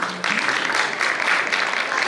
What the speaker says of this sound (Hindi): इसलिए हिंदी के लिए एक बार जोरदार तालियां।